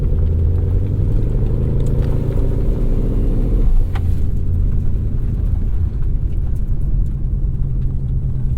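A supercharged, hand-built 5.2-liter V8 in a 2021 Ford Mustang Shelby GT500 rumbles loud and close, a deep steady idle that swells briefly near the middle before settling back into a continuous heavy burble.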